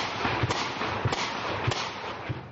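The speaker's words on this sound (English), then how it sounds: "we're ambushed by insurgents. And rocket-propelled grenades come sailing towards us" Gunfire and rocket-propelled grenades in an insurgent ambush in Afghanistan, with distinct loud cracks and thumps at about half-second intervals over a continuous noisy roar.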